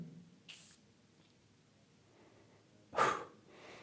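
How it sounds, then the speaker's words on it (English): Two short, breathy spritzes come from a perfume atomizer spraying Tiffany for Woman Intense, close and quiet, with the second burst stronger than the first and nothing but near silence between them. "Please check out this amazing sprayer."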